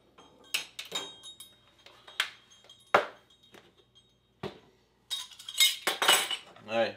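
Dry seasonings for deer jerky, including black pepper, are mixed in a bowl. The result is a series of scattered clinks and scrapes of a utensil against the dish, moderately close, with short pauses between bursts.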